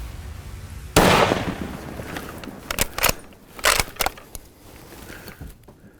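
Single loud rifle shot fired at a black bear on a British Columbia hunt, a sharp blast with a long decaying rumble, followed by a few scattered rustles and thuds outdoors.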